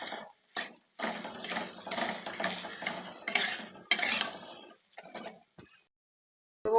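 Boiled potatoes for a sweetened filling being stirred and fried in a pan, scraping and sizzling in short bursts broken by brief pauses, close and fairly quiet.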